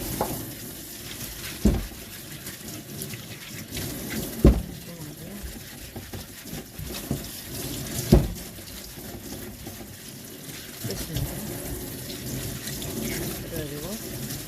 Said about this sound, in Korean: 깨끗하게 씻어서 이런 솔로 깨끗하게 문질러서 씻으면 깨끗하게 씻어 떼어져요.